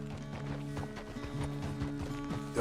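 A horse in Red Dead Redemption 2 clip-clops at a steady walking rhythm, its hoofbeats fairly faint beneath sustained game music, with no talk.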